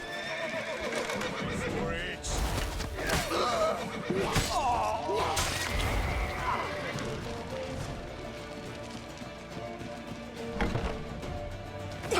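Horses neighing and whinnying in The Witcher 3 during a chase through a city with barred gates, loud shrill calls over clattering hooves, crashes and shouting voices in a busy, tense scene.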